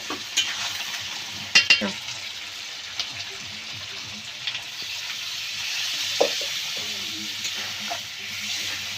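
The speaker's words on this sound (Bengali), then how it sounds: "মাংসটা আমার ভালোভাবে কষানো হয়ে গেছে আলুগুলো সিদ্ধ হয়ে গেছে এবার আমি মাংসটার মধ্যে জল দিয়ে দেবো" Mutton cooking in a pan for dum ka mutton, with boiled potatoes mixed in, gives a steady broad sizzle. A few sharp scraping stirs stand out near the start, and no one speaks.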